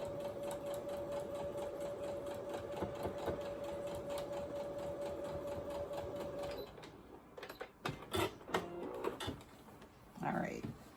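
A sewing machine quilts a king-size quilt-as-you-go postage stamp quilt, whirring steadily and close for several seconds before stopping, followed by handling clicks and rustles with brief background voice.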